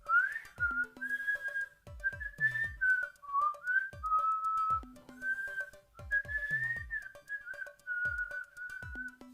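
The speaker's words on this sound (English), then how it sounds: "can I whistle?" A person whistles a wavering melody alone for several seconds. Soft taps and knocks sound in the background.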